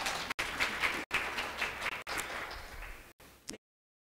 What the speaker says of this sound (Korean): 박수를 많이 치셔서 건강에 큰 도움 되셨으면 좋겠습니다.